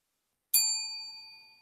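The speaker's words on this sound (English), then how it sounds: "Gotta be real gentle with the bell now, because don't ring if you don't do it like that" A single bell struck once, a bright clear ding that rings on with steady overtones and slowly fades, heard alone in a quiet space.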